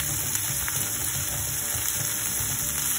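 Escarole hisses and sizzles in a hot pan as it is sautéed and stirred, a steady loud frying crackle with a few soft scrapes, no voices.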